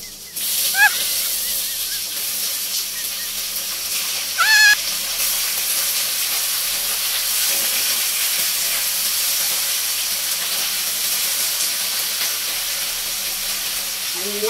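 Chicken pieces sizzling in a hot pan with mixed vegetables, a steady close hiss of frying that runs throughout, broken by a couple of brief squeaky scrapes from stirring.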